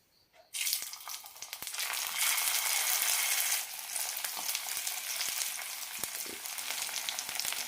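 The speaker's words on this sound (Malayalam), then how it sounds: "ലോ ഫ്ലെയിമിലിട്ട് നല്ല ക്രിസ്പി ആകുന്നവരെ വറുത്തെടുക്കാം." Sweet potato pieces deep frying in oil over a low flame, a steady loud hiss and sizzle that bursts in suddenly and runs on continuously, close by, with a few faint clinks.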